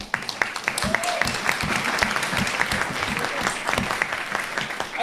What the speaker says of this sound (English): please give your hand of applause